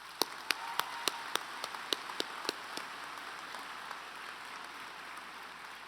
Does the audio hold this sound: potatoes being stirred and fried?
no